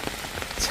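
Rain falls outdoors on a path, a dense, steady patter of drops on the ground, close and continuous for a brief moment.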